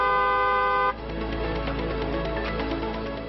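Car horns sound loud and close in a short burst, a sustained steady blare for about a second, followed by dense mixed honking and traffic noise that continues through the rest.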